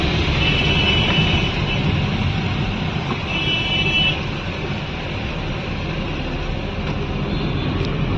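Road traffic noise, a steady broadband rumble of passing cars and trucks, with faint horn-like tones near and far, continuous throughout.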